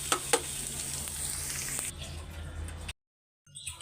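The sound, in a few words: pabda fish frying and spattering in oil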